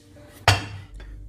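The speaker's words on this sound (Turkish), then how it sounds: "Kapağını beraber açalım." A plastic lid on a container of Tekirdağ meatball mixture pops open with one sharp clatter, then a fainter knock follows a moment later. No one talks.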